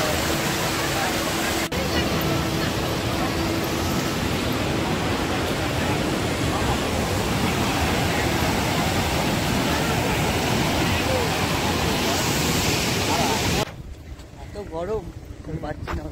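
A strong river current rushes near the falls in a loud, continuous roar with wind buffeting the microphone, then drops abruptly to quieter flowing water near the end.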